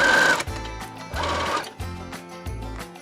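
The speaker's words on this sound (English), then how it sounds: "Finely sew across the middle section." A sewing machine stitches across the middle section of a tiered cotton Camellia dress in repeated loud bursts of rapid mechanical whirring, with short pauses between runs.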